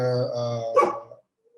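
A dog indoors lets out a drawn-out whining, yelping cry that breaks into one sharp, loud bark close by, then falls quiet apart from a faint trailing whimper.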